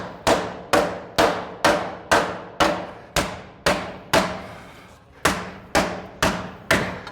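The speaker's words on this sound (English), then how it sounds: "If I start here and hammer it out, it'll actually pull that together and lock it in." Hammering sheet metal to form a tuck on a dragon sculpture, a loud, close series of about thirteen sharp, ringing blows at a steady pace, each decaying quickly, with one short pause near the middle.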